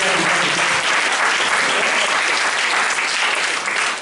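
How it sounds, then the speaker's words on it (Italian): A church congregation bursts into loud, sustained applause, a dense wash of many clapping hands filling the hall evenly from start to finish. "fate un applauso"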